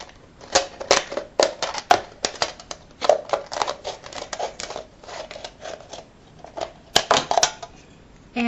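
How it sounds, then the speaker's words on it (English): Scissors snipping around the rim of an aluminum can, a series of crisp metallic cuts and crinkles in irregular bursts, close and fairly quiet with brief pauses between clusters. "cut the rim with the scissors, cut to the first ridge of the rim, and then you're going to cut the top rim off"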